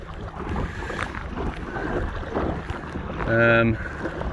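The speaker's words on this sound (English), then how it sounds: "Wow, that wind's strong." Strong wind buffets the microphone over choppy water on Loch Lomond, heard from an Aqua Marina Steam 412 inflatable kayak, with steady rushing noise and a brief tonal whine near the end.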